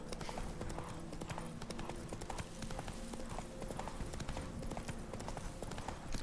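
Roach the horse trots with steady, rhythmic hoof clip-clops in The Witcher 3, close and clear over a low ambient game background.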